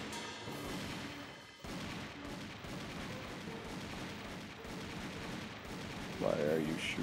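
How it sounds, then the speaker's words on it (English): Ongoing gunfire in the video game Army Men RTS, a steady crackle of rapid shots with scattered heavier bursts, moderately loud, under faint game sounds and a brief voice near the end. "Why are you shooting that one guy?"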